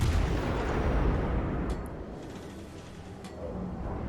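Battleship guns fire in World of Warships Legends, with deep, rolling booms that rumble continuously through the clip and ease slightly toward the end. The sound stays steady and heavy, with no talking.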